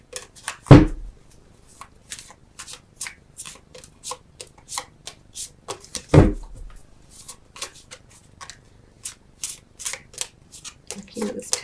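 Tarot cards being shuffled and drawn: repeated crisp riffling and flicking of cards in irregular runs, with two louder soft thumps, close by and under occasional speech.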